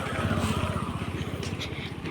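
Motorcycles at a crowded gathering, their engines putting out a loud, pulsing low thrum that throbs steadily close by, with busy background noise over it.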